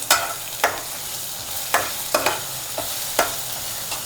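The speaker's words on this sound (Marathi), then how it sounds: "हिरव्या मिरच्या चार पाच आणि लसूण हे टाकायचं ते पण फिरवायचं" Green chilies and garlic sizzle in a pan while a spoon stirs them, giving a steady frying hiss broken by regular scraping strokes about every half second.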